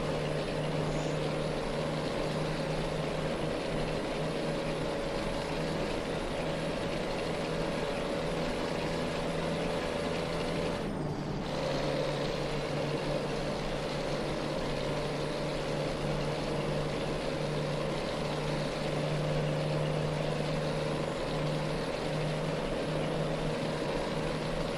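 A steady, droning hum from an M11 Cummins truck engine at 420 horsepower, hauling about 80,000 pounds in American Truck Simulator, running continuously with no talk.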